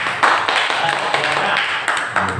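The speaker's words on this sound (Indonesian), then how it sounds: "Tepuk tangan untuk kita semua." A group of elementary school teachers claps together, a close, dense burst of applause with a little voice mixed in.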